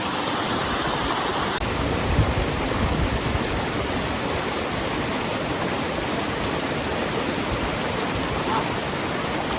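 A mountain river on the Chandranahan trek in Himachal Pradesh rushes in a steady, loud, broadband roar of flowing water, close by and continuous throughout with no voices.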